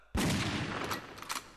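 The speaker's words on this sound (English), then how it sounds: "one that I've used in this bit of a tune that I'm making so far is this ray gun" A ray gun sound effect from an Ableton drum rack fires with a sudden sharp blast, then decays into a noisy tail with a couple of fainter repeated echoes, alone and fairly quiet.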